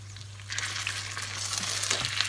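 Gyoza dumplings frying in a covered pan give a steady, moderate sizzle with fine crackles that swell slightly after the first half second, alongside a constant low electrical hum.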